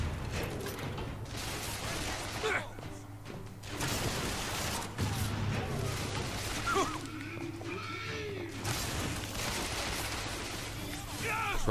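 Gunfire rattles in a BioShock Infinite firefight as rapid bursts of shots mix with mechanical clanks and creaks under a continuous game soundscape, and a voice talks over it.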